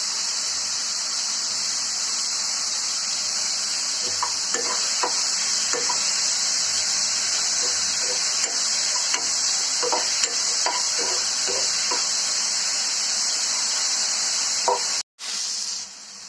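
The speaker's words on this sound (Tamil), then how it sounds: "வெங்காயம் தக்காளி நல்லா வதக்கிடுச்சு" Onions and tomatoes, with curry leaves and coriander, sauté in a pan for a tomato chutney: steady close sizzling and hissing under intermittent stirring scrapes, ending in a brief pause.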